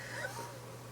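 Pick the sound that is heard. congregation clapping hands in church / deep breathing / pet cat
pet cat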